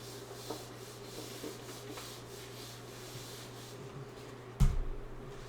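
Steady soft rubbing of a board being wiped clean in a classroom, a continuous low scrubbing texture under a background hum, ending in a sharp knock.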